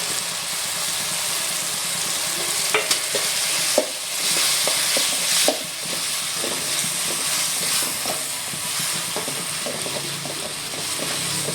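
Egg masala stirred and sautéed in a pan, with a steady close sizzle under repeated scraping and clattering of a spatula, no talk.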